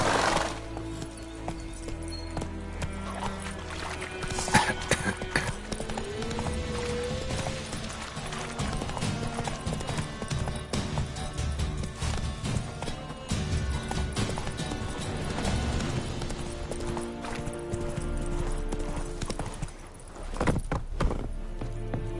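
The horse Roach gallops in The Witcher 3, its hooves clopping in a busy rhythmic patter over game music and ambience, with occasional thuds and a short whinny-like sweep.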